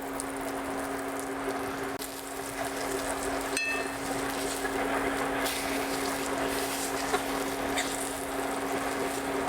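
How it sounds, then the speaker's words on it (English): Veal pieces frying in a couple of tablespoons of oil in a pan, a steady close crackling sizzle with a constant hum underneath, no speech. "I like to pan fry a couple at a time."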